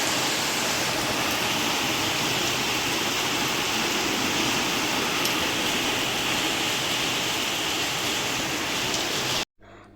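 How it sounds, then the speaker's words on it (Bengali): Heavy rain pours steadily on a hot summer day, a dense continuous hiss that stays loud and even throughout before cutting off abruptly near the end. "আর আজকে কিন্তু ওয়েদারটাও আমার সঙ্গ দিয়েছে, কারণ হচ্ছে খুব বৃষ্টি।"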